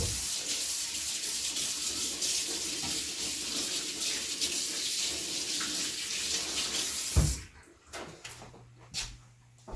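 Water runs steadily from a kitchen tap as hands are washed during stew preparation, a continuous splashing hiss that cuts off near the end, followed by a few brief clatters and a faint low hum.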